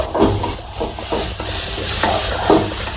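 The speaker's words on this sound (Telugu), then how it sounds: "మనం ఇలా దీన్ని స్లోగా బాగా కలుపుకోవాలి" Pumpkin halwa being stirred slowly in a pan: soft, repeated scraping strokes of a spoon against the pan, with a faint sizzle underneath, close and steady, no voices.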